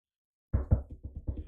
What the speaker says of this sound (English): Knocking on wood.